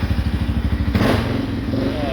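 A 2013 Honda Rincon 680 ATV with a newly installed cam and a possible exhaust leak idles loudly up close, a steady lumpy thumping engine rhythm with a brief clattering surge midway.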